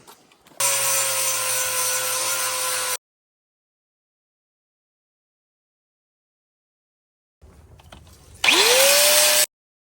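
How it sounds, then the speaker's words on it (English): An angle grinder fitted with a worn, beat-up flap disc grinds on a Chevrolet truck shock crossmember, two loud sustained bursts separated by silence, the second starting with the motor spinning up. "Got the old grinder out. Put a nice little beat to death flap disc on there."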